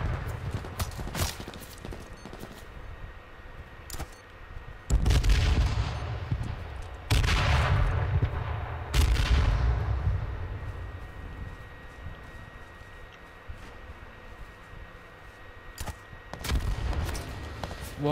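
Sniper rifle shots in H1Z1 Battle Royale, several sharp loud cracks with reverberant tails spaced a couple of seconds apart over a background of footsteps and game ambience.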